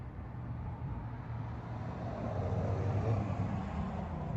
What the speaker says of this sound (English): There's a car going by.